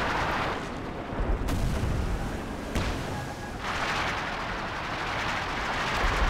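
Artillery fire in Company of Heroes 2 rumbles beneath a dense wash of battle noise, with a few sharp, distinct cracks standing out and no speech.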